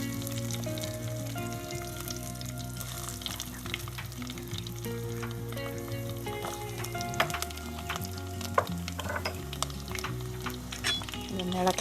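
Garlic frying in hot oil in a pan, with curry leaves already cooked, for a Kerala-style fish curry: a steady close sizzle runs throughout, broken by scraping stirs and light clinks, with a voice talking over it at times.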